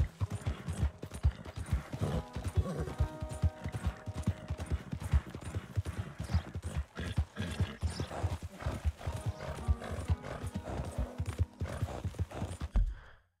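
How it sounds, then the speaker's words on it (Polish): Horse hooves galloping steadily in Red Dead Redemption 2, a fast rhythmic clip-clop that runs continuously and close for the whole stretch, with an occasional whinny and background game music, then stops abruptly at the end. "mi się ten koń nawet dobrze jedzie."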